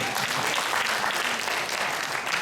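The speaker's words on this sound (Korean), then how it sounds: "박수 한번 쳐주세요." A church congregation claps during a Sunday sermon, a steady, even wash of applause from the assembled crowd, moderately loud and unbroken throughout.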